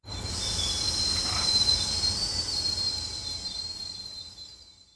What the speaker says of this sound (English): There's a train up ahead.